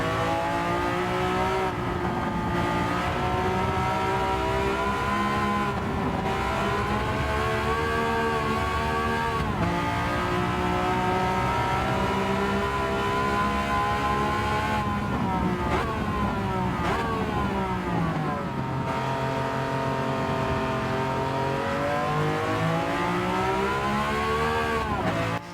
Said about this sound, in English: Add in the V12 sound and you can't go too far wrong.